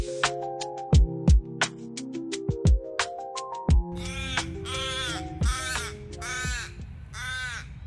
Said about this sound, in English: Got a nice little crow up there.